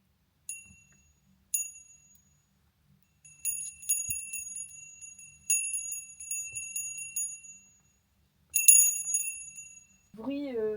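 A cowbell clangs in separate bursts, each ring decaying into a shimmering tail, with silence between strikes and a voice starting at the end.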